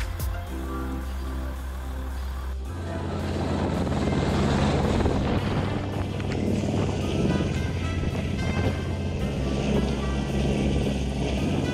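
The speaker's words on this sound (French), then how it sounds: "c'est installation avec l'hélicoptère" A helicopter installs avalanche barriers at the Pelvoux-Vallouise ski area in the mountains, its rotor and turbine droning loud and steady, with a louder swelling roar after the first few seconds.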